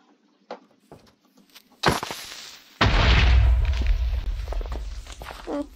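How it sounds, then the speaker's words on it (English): Minecraft explosions: a sharp burst partway through, then a second, heavier blast that rolls into a long, loud rumble with deep low-end that slowly decays, after some quiet footstep-like taps. "We make way too many explosions around here."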